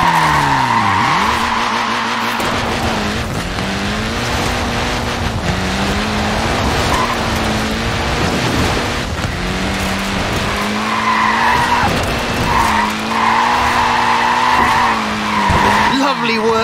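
Mini with a short wheelbase and front-wheel drive sliding and skidding in Forza Horizon 4, with a loud, sustained tyre squeal wavering over a buzzing engine note, while someone talks over it.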